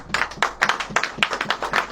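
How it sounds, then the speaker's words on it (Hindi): A small group claps in a quick, uneven rhythm, sharp close hand claps repeating for a couple of seconds. "ताली वाली बजेगी कि नहीं?"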